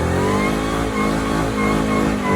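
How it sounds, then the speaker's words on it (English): A 2014 SVT Shelby GT500's supercharged engine revs loud and close, a steady whine riding over the dense, strong exhaust roar the whole way through. "SVT was the generation of supercharger whine, and this is really the last of that."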